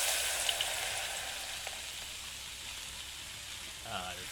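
Fish frying in a pan in the Tamil cooking game Venba, a steady broadband sizzle running throughout at moderate level, with a short voice near the end.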